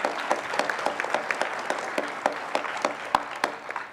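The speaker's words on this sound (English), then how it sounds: "Let's give her a round of applause." A small audience at a regional science and engineering fair awards ceremony claps for a student. The hand claps are sparse, distinct and steady, with no talking.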